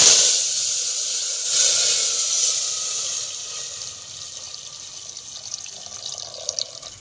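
Hot ghee sizzles and hisses in a pan as spices are dropped in for a tempering in a Punjabi village kitchen, loud at first and then settling into a softer, steady crackle.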